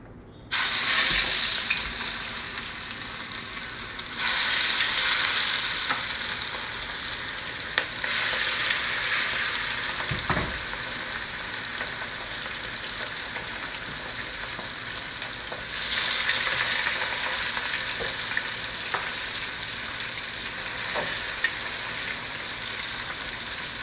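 Chicken, shrimp and sausage for gumbo fry in a pot with a steady, loud sizzle that carries on throughout, with occasional stirring clatter and a few brief knocks, and no talking.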